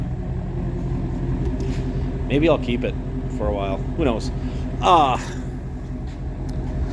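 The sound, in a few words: 2018 Ford Mustang Shelby GT350 exhaust rumble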